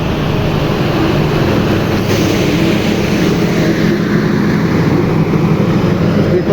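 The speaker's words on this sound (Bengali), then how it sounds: "শব্দের ইঞ্জিন এটা হচ্ছে ইঞ্জিন" A loud, continuous rumble of a train engine drones close by at a railway station, heavy and low, steady for the whole stretch with no voices.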